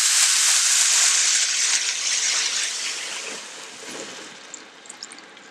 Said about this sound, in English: In goes our 4 cups of water.